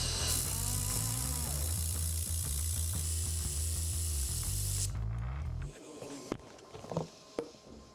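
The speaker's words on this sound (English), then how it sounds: "Got the carbon steel filler wire in there, so let's weld this up." Welding with carbon steel filler wire gives a loud, steady crackling hiss with rhythmic buzzing pulses for about five seconds, then it cuts off into scattered clanks and handling noises.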